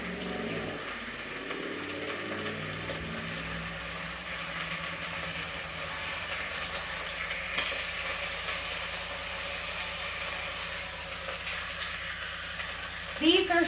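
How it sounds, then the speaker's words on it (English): Thin braised chuck steaks brown in a hot pan, giving a steady, close sizzle and frying hiss that runs the whole time with faint stirring, and a sharper clatter near the end. "These are so thin, they are browning up in less than 4 minutes."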